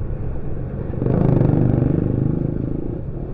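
A motorbike ridden by a kid passes close by on a coastal road trip near Sawarna and Pelabuhanratu, its engine rumble swelling and fading over a few seconds.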